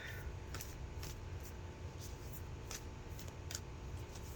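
A deck of cards shuffled by hand, giving a run of crisp flicks and riffles at irregular intervals, close and fairly quiet against low background rumble.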